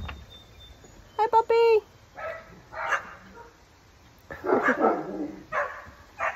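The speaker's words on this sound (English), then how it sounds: "Cute neighbor dogs everywhere." A neighbor's dog barks in a few sharp bursts near the start, followed by quieter yips and whimpers at moderate distance, with people talking softly around it.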